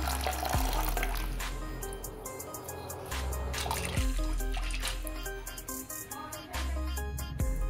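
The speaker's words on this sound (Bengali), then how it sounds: "তো প্রথমে আমি ছোলাটাকে জলে ভিজিয়ে রাখছি" Water pours and trickles over kabuli chickpeas set to soak, a continuous splashing flow with drips and a few knocks of the bowl, close up and with no talking.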